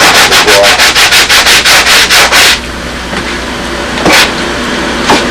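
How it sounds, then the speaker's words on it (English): Rapid rhythmic rasping strokes of a sanding block on a balsa model-airplane wing, about a dozen quick passes, then stopping, leaving a low background hum with a couple of faint scrapes. "squaring up this end of it with the sanding block"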